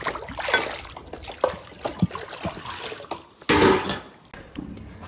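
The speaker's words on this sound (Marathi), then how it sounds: "हे बघा दुसऱ्या पाण्यात धुवू राहिले आता" Hotel dishes being washed by hand in a second basin of rinse water: intermittent trickles, drips and sloshing with clinks of utensils, close by, ending in a louder burst of running water near the end.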